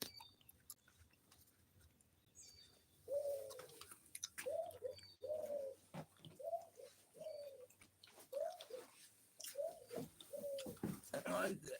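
A white-winged dove coos outdoors in a steady series of soft, hollow, repeated phrases at moderate distance, with faint bird chatter and background noise around them.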